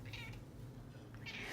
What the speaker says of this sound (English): A special cat.